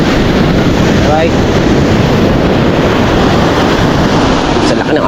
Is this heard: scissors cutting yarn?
no